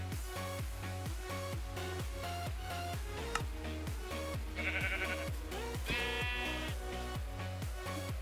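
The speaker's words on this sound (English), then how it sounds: "So now if we get a sheep." Sheep in the video game Minecraft bleat repeatedly in short, close, distinct calls, several in succession over steady background game music.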